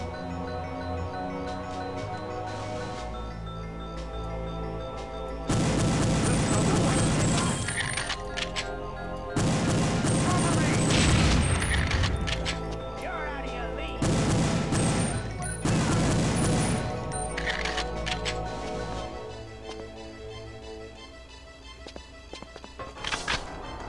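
Bursts of automatic gunfire in the video game Perfect Dark, Area 51 infiltration level, loud rapid fusillades in several long volleys with short gaps, over a continuous game music bed with explosions and clinks.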